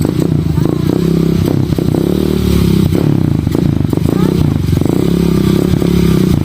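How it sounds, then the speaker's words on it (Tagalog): A habal-habal motorcycle taxi engine chugs loudly and steadily close by as it arrives, with clattering and scraping, while voices talk over the rumble. "Abot ang motor diri."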